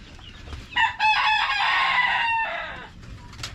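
Dekalb Brown breeder chickens in their coop, with a loud rooster crow lasting over a second and soft clucks before and after, all close by.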